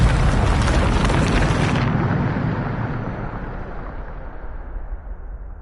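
The Depulso spell in the video game Hogwarts Legacy is cast as a loud, booming blast that rolls out and then slowly fades into a low rumbling decay.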